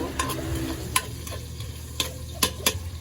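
Chicken sizzles steadily in a frying pan, close up, broken by a few sharp clicks and scrapes of a utensil stirring.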